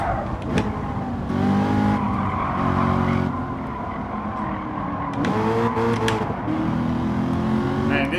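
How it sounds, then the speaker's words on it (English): A Corvette engine roars at racing speed in Gran Turismo 7, revving up and down through gear changes with tire squeal, loud and close, while someone talks over it. "It really sounds like how I imagine such a Corvette to sound like"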